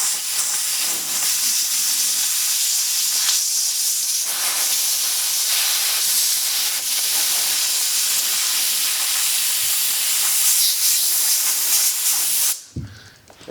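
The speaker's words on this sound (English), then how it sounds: "And then we'll take some compressed air." Compressed air blasts steadily out of a loosened joint on an antique oak table during repair, a loud continuous close hiss lasting about twelve seconds before cutting off abruptly.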